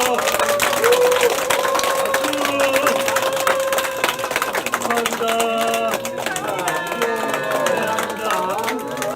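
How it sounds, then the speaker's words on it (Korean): A political gathering crowd applauds in a dense, steady roar of clapping lasting throughout, mixed with cheering voices and some tonal sound underneath. "박수!"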